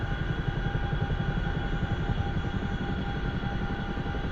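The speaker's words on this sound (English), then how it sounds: "It's called overspeeding your helicopter." A helicopter engine overspeeds in the DCS World flight simulator, a loud continuous droning roar with steady rotor thumping and a high whine, no talking.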